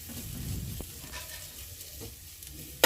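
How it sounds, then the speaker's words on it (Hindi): Spices with Kashmiri red chili powder frying over a medium flame, a soft, fairly quiet sizzle with occasional stirring scrapes in the pan, no voices. "सारे मसालों को यहीं पर चलाते हुए थोड़ी देर के लिए और भून लेते हैं"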